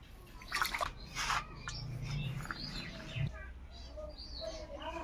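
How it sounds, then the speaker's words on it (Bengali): Running water splashes softly as cut koi fish are rinsed in a village home kitchen, faint and uneven, with a few brief louder splashes and bird chirps in the background. "এখন মাছ ধুয়ে নিব"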